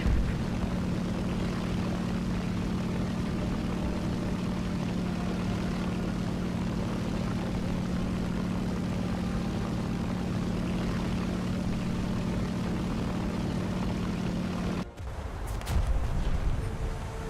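Aircraft engine in a naval warfare video game as the plane climbs and banks into a turn: a steady, loud propeller drone held throughout, shifting abruptly near the end.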